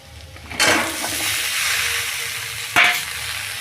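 Chopped drumstick pieces hit a pan of hot oil and spices, sending up a sharp sizzle that surges twice, then settles into a steady, quieter frying hiss.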